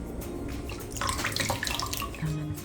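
Water runs from a tap over wool laid out for wet felting, a steady splash and gurgle that grows busier partway through, with no voices.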